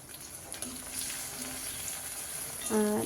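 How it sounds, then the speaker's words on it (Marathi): Onion and tomato frying in oil for a spicy stuffed ridge gourd curry, a soft continuous sizzle with faint stirring, and a short tonal scrape near the end. "ते तेलामध्ये कांदा टमॅटो व्यवस्थित भाजून घ्यायचा आहे जोपर्यंत तेल सुटत नाही तोपर्यंत कांदा आणि टमॅटो एकजीव असा भाजून घ्यायचा"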